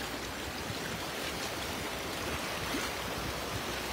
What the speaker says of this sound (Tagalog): Malakas yung agos, no?